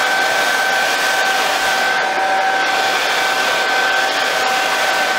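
A hair dryer blowing dew off a telescope mirror, a loud, steady, close whine with a constant rushing airflow and no talk.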